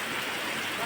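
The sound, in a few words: heavy rain falling in a village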